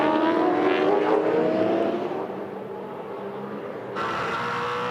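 Race cars battling for position in a motor race, a loud engine roar that sweeps past and fades, then a second engine note cutting in sharply, no voices.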